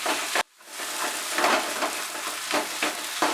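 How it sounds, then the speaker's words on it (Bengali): Masala dosa potato stuffing fries over a high flame with a steady, close sizzle and scraping stir strokes, broken briefly by a short silent gap near the start. "হাই ফ্লেমে আমি 2 মিনিট এটাকে ফ্রাই করব।"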